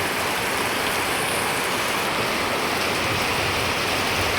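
Heavy rain pours down in rural Bangladesh after falling since three in the morning, a loud, continuous broadband hiss like rushing water, steady throughout with no voices.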